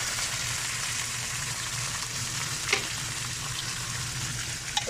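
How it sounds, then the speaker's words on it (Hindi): Chicken pieces frying in hot oil with browned onions for Pakistani chicken korma, a steady close sizzle with a couple of faint clinks from stirring. "इसको करेंगे अच्छी तरह फ्राई।"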